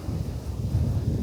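Strong, cold wind on Taiwan's north coast buffets the microphone in a continuous low roar, steady and loud, with no voices.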